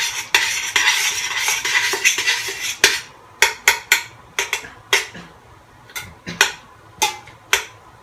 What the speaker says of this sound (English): Next you pick up the spoon, mix your butter in.